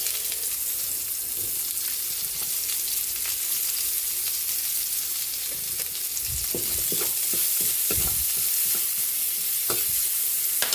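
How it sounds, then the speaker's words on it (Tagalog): Garlic and onion sauté in melted butter in a pan, a steady bright sizzle running throughout with occasional stirring scrapes and clatters in the second half, with no voice. "Lagyan na natin yung butter. Pati yung bawang, garlic. Ito na yung bawang. Lagyan natin itong ating buyas."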